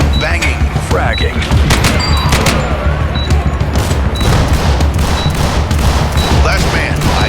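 Dense gunfire with booming grenade blasts in a close-quarters tactical shooter, Door Kickers 2, during a prison hostage rescue; rapid overlapping shots and thumps fill the whole stretch, with voices calling out over the din.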